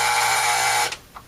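An Arvin clock radio alarm buzzes loudly and steadily at close range, then cuts off abruptly, followed by a couple of faint clicks.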